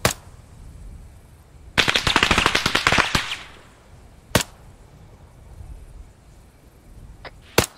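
Gunfire in the ArmA 3 video game: a sudden burst of rapid automatic shots, then a few isolated loud single cracks spaced seconds apart, with a quiet background between them.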